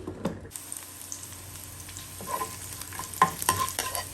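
Close sizzle from a hot pan, with scattered sharp crackles and pops of mustard seeds spluttering, growing busier toward the end.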